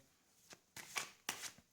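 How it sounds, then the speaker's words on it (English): Tarot cards being shuffled nearby in three quick riffling bursts, crisp and papery, with brief pauses between them. "let me shuffle here."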